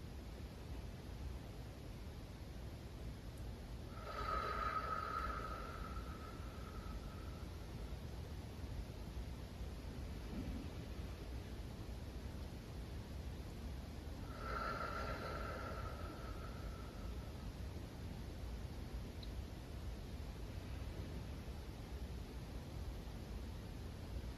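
Slow deep breaths during a standing yoga stretch, two soft airy exhales around four and fourteen seconds, each drawn out for a couple of seconds over a quiet hiss, close and faint with no talking.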